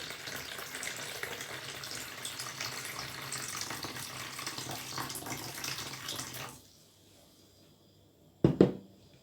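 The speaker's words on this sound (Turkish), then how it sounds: "Şöyle yine bunun içinden döktüğüm su miktarı kadar suyu koyuyorum." Water pours steadily into a container of green olives being cured Edremit style, a loud continuous splashing gush that stops partway through, followed by a brief knock or clunk near the end.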